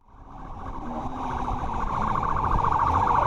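A police siren on a speeding chase for a Chevrolet wails and rises quickly from silence to a loud, warbling tone, close and growing stronger throughout.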